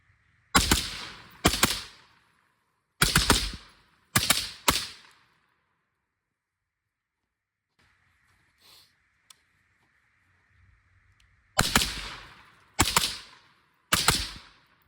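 Gunshots fired quickly from an 11.5-inch-barrel rifle at two targets ring out as loud, sharp cracks in two bursts of four and five, with a quiet pause between them.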